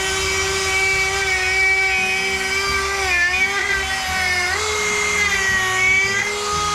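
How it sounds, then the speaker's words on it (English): Dremel rotary tool carving a wood spirit face into wood, a steady high-pitched whine that dips slightly in pitch as the bit bites in under light pressure, continuous and close for nearly seven seconds. "Try to let the Dremel do its work without me really pressing in hard."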